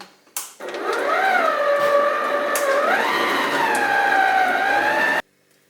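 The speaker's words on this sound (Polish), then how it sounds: "250 g masła, wcześniej sobie pokroiłam je w kostkę, aby było łatwiej utrzeć i właśnie to robię." An electric hand mixer whirs as it creams 250 g of cubed butter for homemade pudding cream, a steady close motor drone that rises in pitch partway through and cuts off abruptly at the end.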